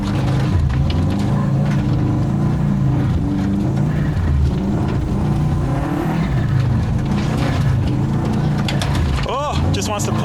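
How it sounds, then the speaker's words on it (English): A race car engine holds first gear and builds revs, a loud, continuous close drone that rises and strains, with someone talking over it. "Let's put that back into first and build some revs"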